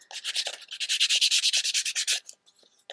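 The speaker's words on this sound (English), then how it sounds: "I'm just gonna sandpaper the edge." Sandpaper rubbed quickly back and forth along the edge of a paper envelope, giving a close, rhythmic scratchy rasp of about twenty strokes that trails off into faint rustling.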